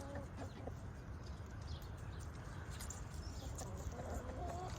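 Chickens clucking faintly among a flock of hens, with a few soft calls over a low steady background outdoors.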